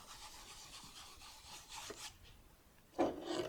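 Grease being rubbed by hand into a highly finished, waxed leather boot, giving a soft continuous scuffing rasp that swells into a louder rub near the end.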